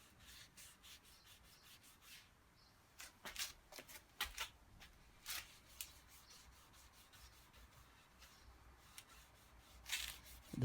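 Black Fiebing's leather dye is rubbed by hand onto the body of a Telecaster guitar, making soft, close, irregular scuffing strokes in short bursts.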